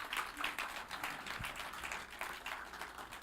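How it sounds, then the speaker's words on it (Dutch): A modest round of clapping from a church congregation at a bilingual Sunday service, fairly faint and steady, with individual claps audible throughout. "Kunnen we een applaus geven daarvoor?"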